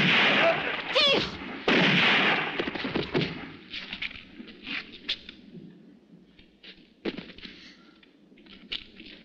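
Gunfire in a French-language western film: a few loud, booming shots close together at the start, then scattered fainter reports and clatter fading toward the end.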